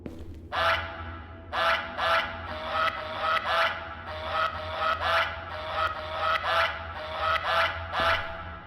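Repeated goose honks from the video game Creature Packets, about eight rhythmic calls spaced roughly a second apart, loud and clear over a steady low background hum, with no talking.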